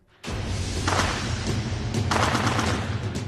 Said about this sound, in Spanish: empiezan a sonar disparos cerca del Palacio Presidencial